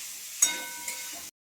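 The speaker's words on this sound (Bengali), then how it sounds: "এখানে আমি ডিমটা ভাজা করছি," An egg fries in hot oil in a pan, a sizzling hiss that starts abruptly with a sharp crackle, swells once more midway, then cuts off cleanly, with no talking.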